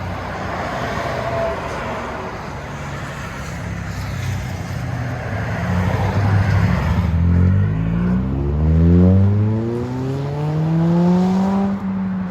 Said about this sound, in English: Toyota Corolla 2022 hatchback with a muffler delete.